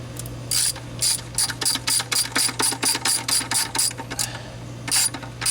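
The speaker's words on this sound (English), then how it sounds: "So take your ratchet and just snug, run it in until" Ratchet clicks in a steady run of rapid pawl bursts, close and loud, as a bolt is snugged into a Jeep Wrangler YJ transfer case during a slip yoke eliminator install, with a constant low hum beneath.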